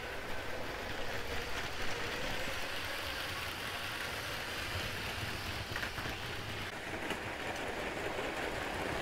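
A low, continuous rumbling whir of small model trains running on track, steady and moderately faint with a light rattling texture throughout.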